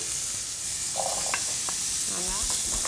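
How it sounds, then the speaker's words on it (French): Onions and chayote tipped into a hot pan for a gluten-free chicken colombo, giving a steady close sizzle with brief stirring scrapes and soft clatter on top. "Ici, on va rajouter les oignons, la Christophine."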